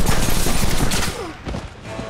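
Gunfire from the Western video game Red Dead Redemption, a dense crackling burst of shots packed close together for about two seconds and fairly loud, with no talk over it.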